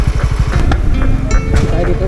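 A Honda Winner X motorcycle engine runs with a rapid low pulsing idle close by, while someone talks over it.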